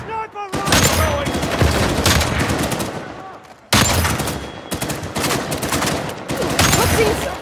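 Sniper rifle fire in the video game Uncharted 4, a loud, dense fusillade of sharp gunshots with rapid bursts and booms, continuing almost without pause apart from one brief break.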